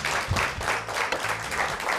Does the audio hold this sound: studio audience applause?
yes